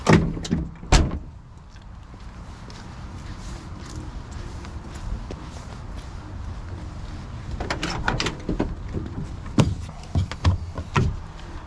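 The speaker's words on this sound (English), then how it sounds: "Door locks, nice and easy." Door locks are worked on a 1978 Chevrolet K-10 long bed 4x4 pickup truck, giving a couple of sharp clunks at the start and a cluster of clicks near the end over low background noise.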